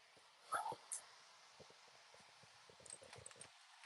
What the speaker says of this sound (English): Maybe he won't bark this time.